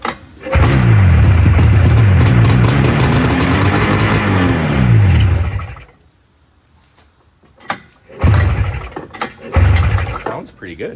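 A revived Arctic Cat snowmobile engine runs loud and close for about five seconds, its pitch sweeping up and down as it revs. It then cuts off, followed by a few short clunks and bursts of noise.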